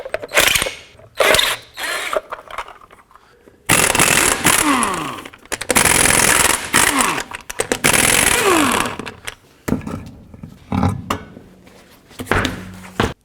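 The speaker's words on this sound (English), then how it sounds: "take off the lug nuts, and then remove the wheel." Power tool zipping lug nuts off a 2007-14 Chevy Silverado truck wheel, loud close bursts of rapid ratcheting rattle repeated several times between short pauses and clanks.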